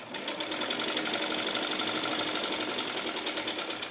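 A sewing machine stitches a salwar seam with a rapid, even mechanical whir that runs steadily and alone throughout.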